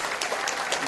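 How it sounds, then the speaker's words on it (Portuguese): Audience at a conference session giving a round of applause, a brief dense burst of clapping at moderate loudness. "Vamos referendar então com uma salva de palmas"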